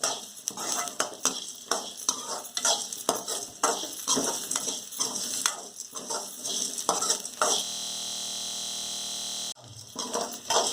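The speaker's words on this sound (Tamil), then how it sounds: "வெங்காயம், பூண்டு, அந்த தனியா, ஜீரகம், மிளகு எல்லாமே ஃப்ரை ஆகிடுச்சு." Onion, garlic, coriander seed, cumin and black pepper fry in a pan for a garlic gravy, giving a close, steady sizzle broken by repeated scraping and clinking stirs. The sizzle holds alone for a couple of seconds before the stirring resumes.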